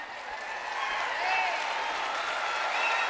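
Audience applause for a performer at a live French music show, a dense sustained wash of clapping that swells and holds steady, with a voice or cheer rising over it.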